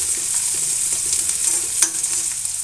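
Onions sprinkled with salt fry in a pan for an egg omelette tomato curry, with a steady bright sizzle and soft stirring scrapes close by.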